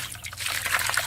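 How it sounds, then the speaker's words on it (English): A brief trickle of water pouring out onto a driveway and splashing, close by and fairly quiet. "Pour the water"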